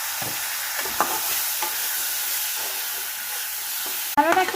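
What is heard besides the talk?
onion garlic tomato spice paste sautéing for paneer tikka masala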